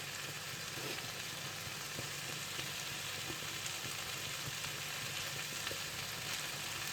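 Spaghetti and chicken stir-fry in a pan, giving a soft, steady sizzle and frying hiss that stays constant and fairly quiet, with no talking.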